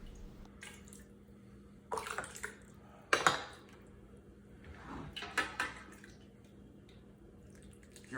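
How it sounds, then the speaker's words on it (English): Chicken soup ladled into a measuring cup and then poured into mason jars, with a few distinct liquid splashes and clinks in short bursts against a quiet kitchen background. "You'll notice here I'm using my ladle to fill up my measuring cup."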